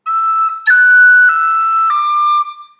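A tin whistle plays a short phrase of Garret Barry's Jig, clear, bright sustained notes stepping between a few pitches, close and loud with no other sound.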